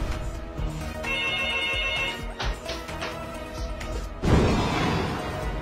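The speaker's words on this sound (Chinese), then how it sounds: "家里电话又响了" A home telephone rings behind computer game sounds, a repeating electronic ringtone at moderate level mixed with clicks and effects, ending in a crash-like burst.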